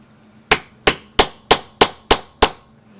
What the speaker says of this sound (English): And you have to take a hammer.